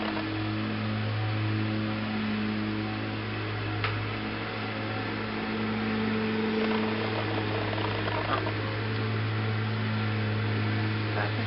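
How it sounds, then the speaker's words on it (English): A lawn mower runs outdoors as a steady, low droning hum, distant and muffled, holding an even level throughout with no speech over it. "They're out there mowing the lawn."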